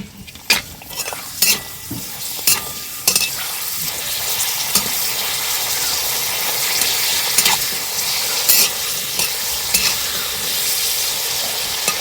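Papad frying in hot oil, a loud, bright, continuous sizzle up close, with sharp clatters of a utensil against the pan scattered through the opening seconds and a few later knocks.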